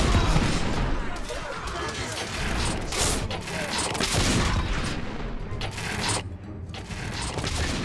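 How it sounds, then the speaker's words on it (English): Heavy artillery fire in The Order: 1886 video game rumbles and cracks continuously, with dense, loud blasts and clattering debris filling the scene and brief bursts standing out against the steady barrage. "We are witnessing heavy artillery fire at the moment."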